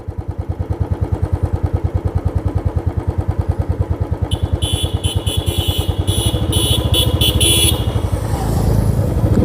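A motorcycle engine runs steadily close by at night at a red traffic signal on a road trip toward Siliguri, with a pulsing low rumble, a horn-like tone briefly joining partway, then traffic noise swelling as the bike goes through.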